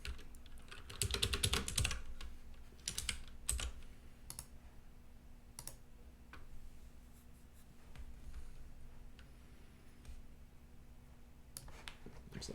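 Someone types on a computer keyboard during a live coding session, with a quick burst of clattering keys followed by scattered single taps and short clicks against a quiet room hum.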